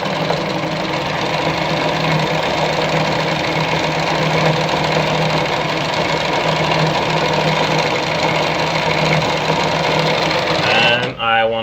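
A Jones Brother model 687 sewing machine stitches a design with a steady, rapid mechanical whir and rattle running close and unbroken for several seconds, stopping abruptly at the end.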